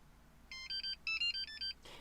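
A short, faint electronic melody of bright beeping tones plays quickly, a key programmer's completion chime after programming a Ford Focus key, followed by a soft rustle.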